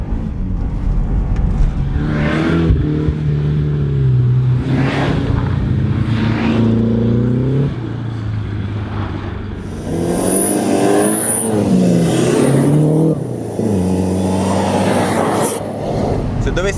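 A rally car, one of a Lancia Delta, Subaru Impreza or Mitsubishi Lancer, revs hard through a pendulum drift. The engine rises and falls repeatedly and loudly up close, while someone talks excitedly over it.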